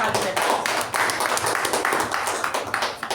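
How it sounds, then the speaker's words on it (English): An audience claps for the sergeant at arms at a club meeting, a dense burst of hand claps from a modest group, close and fairly loud, with individual claps audible in the texture and faint voices mixed in. "So please give a huge round of applause for our sergeant"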